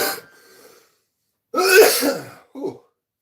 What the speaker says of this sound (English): take a second to cough it